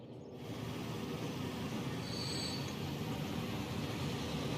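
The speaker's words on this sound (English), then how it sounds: "This is a busy train station" Trains rolling through a busy station in Transport Fever 2, a steady rumbling wash of railcar noise with a brief high wheel squeal partway through, no voices.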